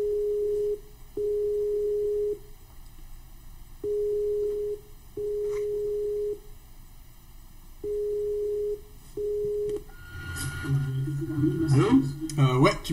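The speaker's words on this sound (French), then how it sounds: "j'ai Forexman, je l'appelle, on démarre tout de suite" Outgoing telephone call ringback tone, a loud steady beep repeating six times at roughly two-second intervals, after which the call connects and voices start talking.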